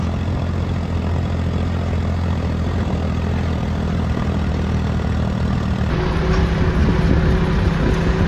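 A tractor driving along a road at night: a loud, continuous engine drone with a steady low rumble. The tone shifts slightly partway through as the engine note changes.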